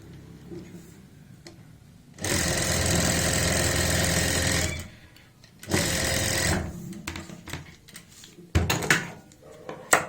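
Two loud bursts of a sewing machine stitching a neckline, steady and whirring, separated by a quiet pause, with softer handling clicks and a short third burst near the end.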